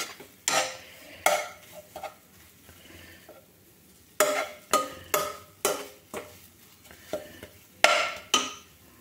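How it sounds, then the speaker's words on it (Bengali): Green pea paste frying in a wok, heard as repeated scraping and knocking of a spatula against metal in irregular bursts over a faint sizzle, close by with no talking. "মটরশুঁটির এই পেস্টটা একটু ভেজে নিলাম, কড়াই একটু মাখো মাখো করে নিলাম"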